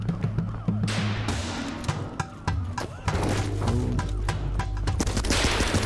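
Machine gun fire in the video game Ape Out, a loud, continuous rattling fusillade mixed with thumps, layered with busy game sounds and bursts of talk.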